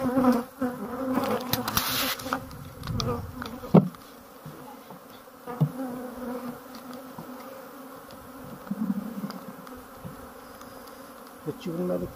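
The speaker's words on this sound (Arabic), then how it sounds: "تشوف الملكة ملكة النحل" Honeybees buzzing around an open hive in the mountains near Berkane, Morocco, a dense steady drone close by, with handling knocks and rustles on top and faint voices in the background.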